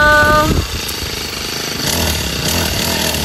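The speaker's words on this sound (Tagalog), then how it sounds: "Si Bossing po ay mag-grass cutter na." A grass cutter engine runs with a steady, buzzing drone near a fishpond, loud and continuous throughout.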